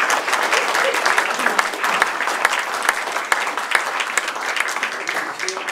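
A lecture hall audience at a museum's mock retrial of Dr Crippen claps in sustained, dense applause that holds steady throughout.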